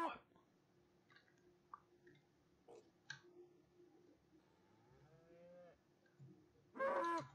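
A cow moos during milking in a farming video game, a drawn-out low call among sparse, soft interface clicks in an otherwise quiet scene.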